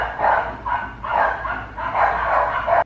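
Small dogs bark in repeated bursts close by, several yaps in quick succession with brief pauses, loud and alone with no talking over them.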